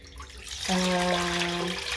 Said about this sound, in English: you turn on your heat, put water in a pan